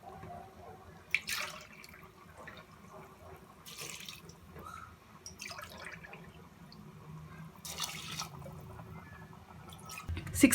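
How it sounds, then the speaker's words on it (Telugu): Water poured from a glass into a pot of mutton biryani in a home kitchen, a few separate splashing pours over a low steady background, moderately close. "ఇప్పుడు నేను 6 గ్లాస్ వాటర్ వేస్తున్నాను"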